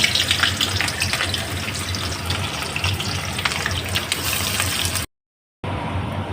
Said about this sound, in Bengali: এইবার আমি এই পেঁয়াজ কুচি এটা দিয়ে দেবো